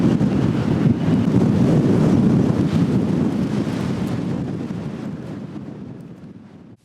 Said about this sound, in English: it's way too windy for anything to be up and moving